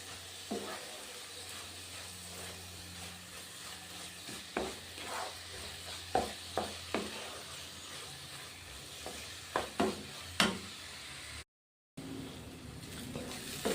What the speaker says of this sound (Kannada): ಗ್ಯಾಸ್ ಫ್ಲೇಮ್ ಕಮ್ ಕಮ್ಮಿ ಇಟ್ಕೊಂಡು ನೀಟಾಗಿ ಫ್ರೈ ಮಾಡಿ